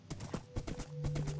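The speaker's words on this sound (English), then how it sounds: "this horse is not liking me right now" A horse in the Minecraft video game clip-clops in a quick, uneven run of hoofbeats with a steady tone underneath, fairly close and clear, with no talk over it.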